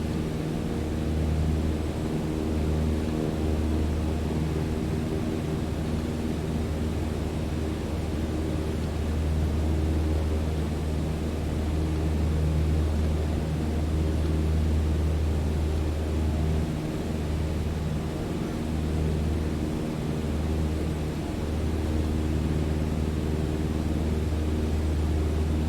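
In Microsoft Flight Simulator 2020, an aircraft engine drones steadily with a low, even hum and a broad rushing noise that hold without a break throughout.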